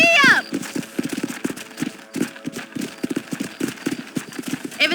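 Horse hooves pound in a rhythmic galloping clip-clop in the Red Dead Redemption video game, loud and close, with a brief whinny at the start and a voice over the steady hoofbeats.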